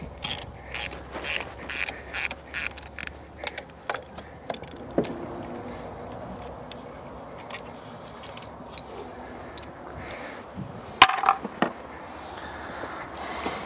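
Ratchet wrench loosening 13 mm bolts on the intake of a 1968 V4 engine, a run of quick clicking bursts in a steady rhythm that thins out, followed by scattered metallic taps and handling noises up close.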